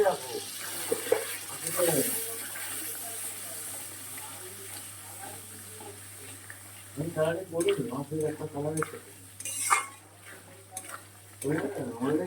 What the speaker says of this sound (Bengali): আবার একটু জল দিয়ে দিলাম।